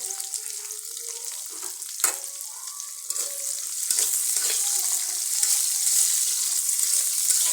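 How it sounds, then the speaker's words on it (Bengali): Onion, chili, garlic and pointed gourd peels fry in soybean oil with a steady, close sizzle and crackle, with stirring clatter and a sharp tap near the start, and the frying grows a little louder toward the end. "এখন আমি সয়াবিন তেলের উপরে সব কিছু একটু ভেজে নেব। পেঁয়াজ, মরিচ এবং রসুন এবং পটলের খোসাগুলো সুন্দর করে ভেজে নেব।"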